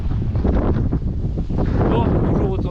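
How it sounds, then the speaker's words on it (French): Strong seaside wind buffeting a microphone at Canet-en-Roussillon, a loud, continuous roaring rumble with gusty surges throughout, heavy low-end distortion and no pause. "Le vent qu'il y a ici, c'est une dinguerie."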